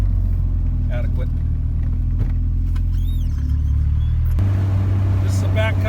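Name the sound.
1982 Fiat X1/9 car driving on a backcountry road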